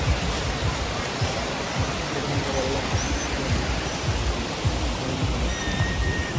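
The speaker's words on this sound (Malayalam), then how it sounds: "ലേക്കിലൂടെ വരുന്ന വെള്ളം ഇതിലൂടെ അടിയിലൂടെ ഇങ്ങനെ പോകട്ടോ, നല്ല ഭംഗിയായിട്ട്" Lake water pouring down through an outlet like a dam spillway at Ganga Maya in Darjeeling, a close, loud and steady rushing roar that holds unbroken from start to finish with no voices.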